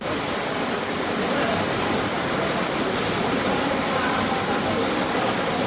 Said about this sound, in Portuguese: Em ladeiras, a água parecia uma cachoeira de lama.